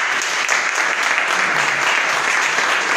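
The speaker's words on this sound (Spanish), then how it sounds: "un fuerte aplauso" A dense, even wash of applause from an audience at a talk on wildlife health and monkeypox, loud and sustained throughout without a break and with no speech over it.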